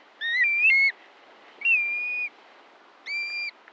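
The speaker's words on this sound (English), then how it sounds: "Here's one shorebird that breeds in the Arctic, the black-bellied plover." Black-bellied plover, an Arctic-breeding shorebird, gives three clear, mournful whistled calls, slurred and slightly rising, spaced about a second apart against quiet background hiss.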